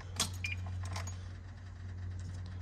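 A bunch of keys jangles and clinks briefly as they go into a Kubota excavator's ignition, close and quiet, then settles into a low hum.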